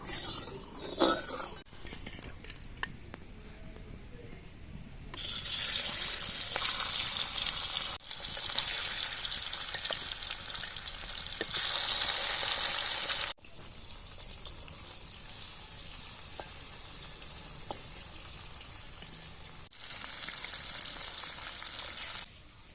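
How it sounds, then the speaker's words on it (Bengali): Fresh pond tilapia fry in hot oil in a kadai, with bursts of loud hissing sizzle that start and stop several times. Between the bursts there are quieter stretches with kitchen handling noise. "এবার মাছগুলো ভেজে নেবো"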